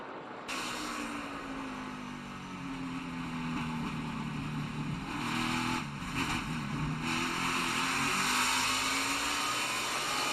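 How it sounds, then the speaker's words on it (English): Number 12 NASCAR Xfinity race car at speed with its throttle rising and falling as the number 3 car tries to pass, a steady loud engine drone with pitch sweeps over a continuous roar, no talk. "listen to the throttle of the 12 as the 3 is trying to get by him"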